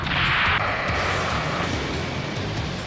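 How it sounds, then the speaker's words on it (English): A rocket launches in the Ace Combat 7 video game with a loud, close whoosh and roar. It stays dense and steady for about three seconds, with a brighter hiss at the start, and no one speaks. "Rocket!"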